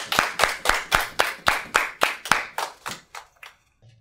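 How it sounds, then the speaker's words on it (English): A small group claps in unison for Dr. Justin, about a dozen sharp, evenly spaced claps that gradually weaken and thin out, then stop near the end. "Let's give a big round of applause"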